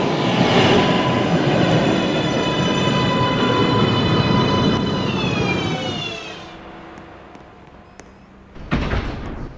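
A New York subway 2 express train pulls into Lincoln Center station, a loud rolling rumble with screeching, whining wheel tones that drop in pitch as it slows, then quiets before a sharp burst near the end.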